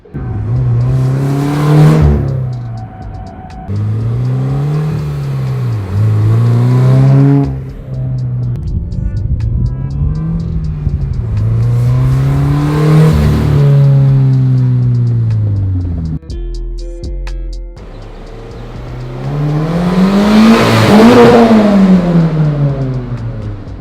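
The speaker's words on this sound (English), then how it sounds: "I want to do a few revs in the tunnel just so you guys can hear how it sounds" Loud engine revs of a Subaru BRZ/Scion FR-S/Toyota 86 with an Invidia N1 exhaust, rising and falling repeatedly, echoing in a tunnel, with crackling exhaust between pulls.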